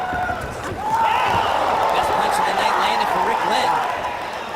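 Crowd cheering for Rick Glenn at a UFC fight in Hidalgo, Texas: a steady, loud arena roar swells and holds for several seconds beneath a commentator talking over it.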